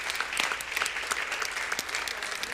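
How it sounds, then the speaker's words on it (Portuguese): A church congregation claps loudly in sustained applause, a dense, even patter of many hands filling the room with no speech over it. "Dá um aplauso forte aí pelo Senhor na vida dessas pessoas."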